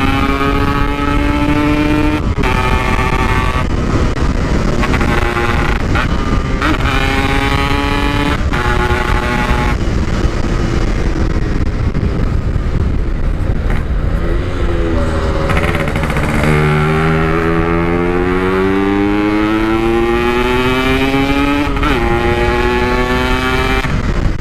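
A Yamaha RX King motorcycle engine runs loud and close, droning steadily with its pitch climbing and falling through repeated revs and gear changes.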